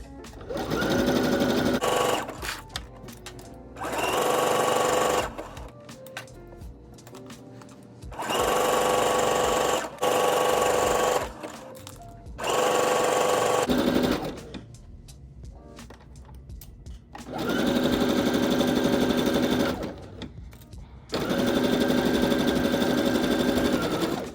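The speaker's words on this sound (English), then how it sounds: "Now it's time to take it to the machine. Sew the crotch seam from one end to another." A sewing machine stitches the crotch seam of a pair of biker shorts in several bursts of steady, fast whirring, each lasting a few seconds and separated by short quiet pauses, with the bursts close and loud.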